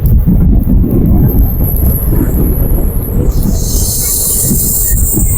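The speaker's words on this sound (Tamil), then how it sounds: "பிரேக் போட்டாங்க பாருங்க, அப்படி கத்துது" A passenger train slows as its brakes are applied, with heavy, loud rumbling of wheels on rails and a thin, high squeal rising and sustaining above the noise.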